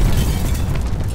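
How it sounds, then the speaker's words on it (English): A loud, deep, sustained rumbling boom of an explosion near a city street fills the whole moment with dense low-frequency roar and no voices. "There was a tremendous explosion"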